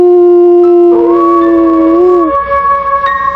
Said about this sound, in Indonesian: kembali suara lolongan anjing terdengar di telinga Andre